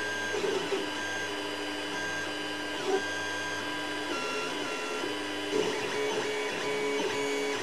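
An orange-filament 3D printer extrudes plastic through its small nozzle in a home workshop, giving off a steady mechanical hum laced with stepper-motor whines and tones that shift in pitch, plus brief clicks, all close by with no voices.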